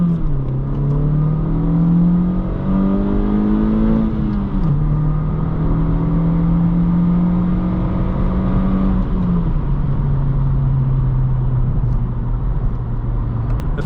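A 2022-2024 Honda Civic Sport 2.0 with a manual gearbox, fitted with a Pedal Commander throttle controller, revs up through the gears while driving, its engine drone climbing in pitch and then dropping at each upshift; heard from inside the car, loud and continuous.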